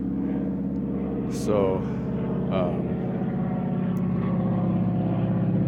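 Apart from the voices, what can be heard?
airplane flying overhead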